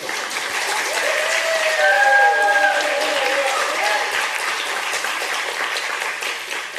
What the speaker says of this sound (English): Okay, now applaud.